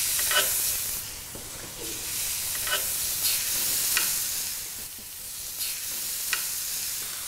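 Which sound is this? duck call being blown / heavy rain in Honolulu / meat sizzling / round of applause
meat sizzling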